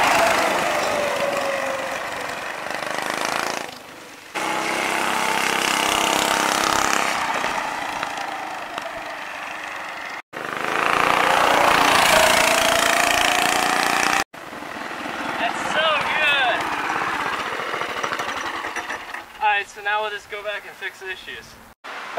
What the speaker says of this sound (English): I'm gonna take it for a quick little test drive